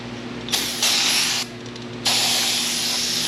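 Brake cleaner sprays from an aerosol can onto an LS1 engine part in a garage. Two loud, steady hissing bursts are heard close by, the first about a second long and the second longer, over a low background hum.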